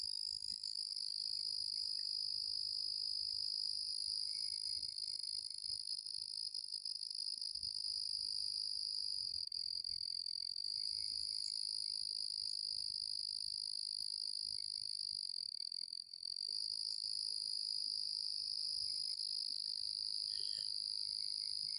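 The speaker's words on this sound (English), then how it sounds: "When there's more dead silence and these crickets are done, I know I heard one cricket over there." Steady, dense chorus of crickets and other night insects in woods after dark, loud shrill trilling running continuously with no other sounds and no talking.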